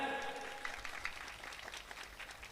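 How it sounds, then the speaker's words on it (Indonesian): Audience applause at a lively Indonesian religious sermon, a steady wash of many hands clapping at moderate level, faint and fairly distant, with a trace of voices mixed in. "Tepuk tangan"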